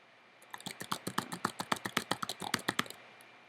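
Rapid keyboard typing, a quick run of sharp clicks close up in an irregular rhythm, with no talking.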